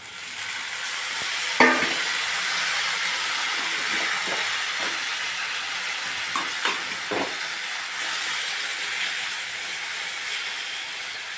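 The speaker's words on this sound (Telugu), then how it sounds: "ఇప్పుడు టమాటాలు వేసుకోవడమే." Tomatoes fry in a pan for tomato egg curry, a steady hiss of sizzling oil broken by occasional scraping stirs and spatters, close and constant with no talk.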